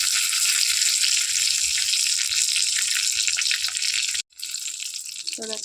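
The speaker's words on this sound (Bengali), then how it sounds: "এই তেলের মধ্যে জিরে ফোড়ন দিয়ে দেবো, কারি পাতা আর শুকনো লঙ্কা" Cumin seeds, curry leaves and dried chillies crackle and sizzle loudly in hot oil, a bright, steady frying hiss that drops out briefly and then resumes, with a faint voice near the end.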